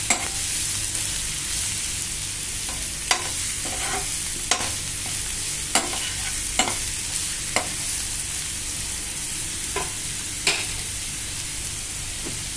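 Onion sizzles steadily in a hot pan as it is sautéed for prawn masala, with a constant frying hiss broken by occasional sharp clicks of a spoon stirring against the pan.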